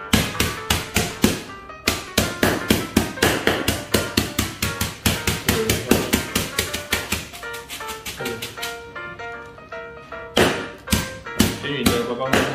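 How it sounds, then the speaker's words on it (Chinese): Repeated light tapping and thudding as corn flakes and nuts are crushed for chocolate chip cookies in a home kitchen, a fast steady series of close, sharp knocks with a brief pause, continuing throughout. "轻轻的把它敲压碎就好了"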